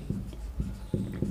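Chalk or marker strokes on a classroom board during a lesson on the thyroid gland, several short scratchy strokes in uneven rhythm, close and fairly clear with no talking.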